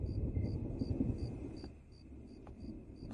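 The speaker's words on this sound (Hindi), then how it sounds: "चलो अंदर चलो मोहतरमा, तूफान आने वाला है।" Distant thunder from an approaching storm rolls low and soft, while crickets chirp in a steady, evenly spaced pattern above it.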